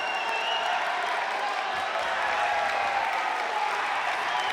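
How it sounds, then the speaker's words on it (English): A crowd at a college wrestling match between Lehigh and Army roars and applauds continuously, a dense, loud wash of cheering that holds steady throughout. "you hear the crowd getting crazy for this match"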